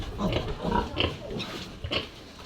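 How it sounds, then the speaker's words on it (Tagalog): An old sow grunts in a pen on a small farm, a series of close, rough grunts and snorts in an irregular rhythm, with no one talking. "Ito naman po yung kay Mamang matandang baboy."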